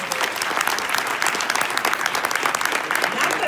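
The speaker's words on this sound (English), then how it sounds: "Give yourselves a round of applause." Dense, steady audience applause fills a hall at a Delaware State University gathering, a loud continuous wash of many hands clapping at even strength throughout.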